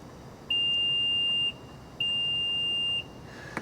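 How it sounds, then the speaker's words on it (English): Two long steady electronic beeps from a 2026 Nissan Rogue SV liftgate height reset, each about a second, separated by a short pause, clear and close against quiet background. "We're going to hold it down and listen for the beeps."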